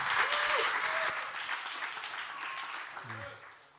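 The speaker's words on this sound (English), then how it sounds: "So get a round of applause here for Marty" A conference crowd at an open-source event claps for a speaker, a sustained wash of applause that gradually tapers, with a voice briefly speaking over it.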